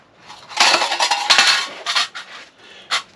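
A metal tray from a spirit stove is handled and pushed into the cooker, producing a cluster of bright metallic clanks and scrapes followed by a single sharp clink.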